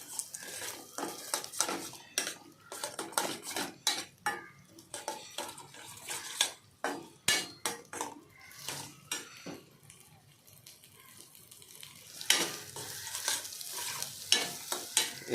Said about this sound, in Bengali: দেখতে পাচ্ছ ডিমটা দিয়ে দিয়েছি, এখন তাকে পুরো পেস্ট করে দেবো,